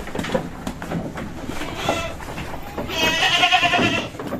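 A Javanese Randu goat lying down for long-distance shipping bleats, with a short call early on and a louder, sustained bleat near the end over low background noise.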